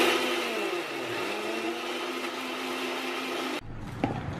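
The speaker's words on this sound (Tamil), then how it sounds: "கல்லுப்பு, சில்லி, ரெட் சில்லி, அப்புறம் ஜீரகம், அப்புறம் பூண்டு, இதெல்லாம் சேர்த்து நல்லா அரைச்சிடணும்." A mixer-grinder blender grinds rock salt, red chilli, cumin and garlic with a loud, steady motor whine that holds for several seconds, then cuts off abruptly and leaves a short quieter stretch of small clatter.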